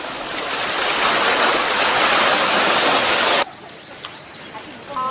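Surf rolls onto a gently sloping sandy beach on Jawoldo island where people dig for clams, a loud steady rush for about three seconds, then a cut to a quieter moment with faint bird chirps.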